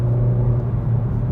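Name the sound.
car engine during spirited driving through a corner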